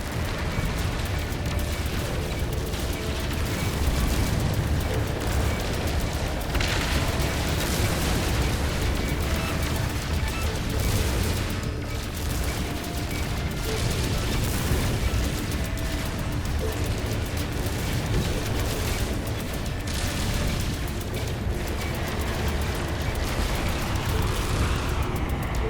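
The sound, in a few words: gunfire and explosions hitting the player in No Man's Sky video game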